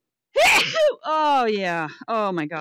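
A sharp, explosive sneeze bursts out, followed right away by a person's excited spoken exclamations.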